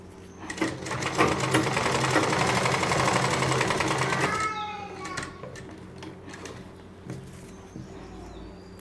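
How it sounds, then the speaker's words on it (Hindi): A sewing machine stitches the final seam of a kurti for a Rajputi suit, whirring loud and steady for about four seconds before stopping, leaving a few faint clicks and quiet room sounds. "अब हमें जो लास्ट वाली जो सिलाई है वो हम कर देते हैं"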